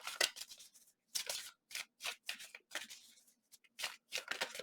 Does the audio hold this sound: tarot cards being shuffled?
yes